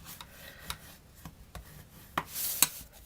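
Early Espresso cardstock, an A4 sheet cut in half, being folded in half into a card base, with quiet paper rustling, a few crisp taps and one sharp creasing swipe near the end, close and faint.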